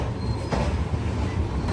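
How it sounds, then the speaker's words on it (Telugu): A long-distance train, the Pune–Kanyakumari Express, rolls onto the platform at Katpadi Junction, giving a steady close rumble with faint metallic squeal and no voices. "వచ్చేసింది మన ట్రైన్ ప్లాట్ఫామ్ మీదకి"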